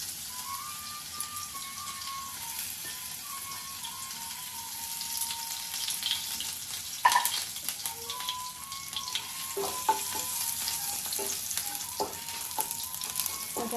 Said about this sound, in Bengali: এগুলো ফ্রাই করে নিই, এই ক্যাপসিকাম পেঁয়াজ এগুলো ফ্রাই করে